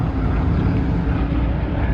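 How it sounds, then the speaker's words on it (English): Airplanes fly over at an air show during a Texas car cruise-in, a loud, dense engine roar filling the whole moment without letup. "There's gonna be an air show, so hopefully, more than likely, we're gonna be able to see the planes fly over."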